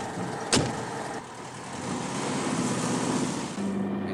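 A car pulls away in a 1967 German TV series scene, a steady engine drone and road noise rising slightly as it drives off, preceded by a sharp click like a door, no talking.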